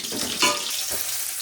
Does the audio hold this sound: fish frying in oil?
yes